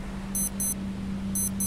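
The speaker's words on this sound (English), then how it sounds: "That beeping." Beeping alarm in the survival video game Stranded Deep: two pairs of short, high electronic beeps ring out evenly over a low steady hum, with no talk.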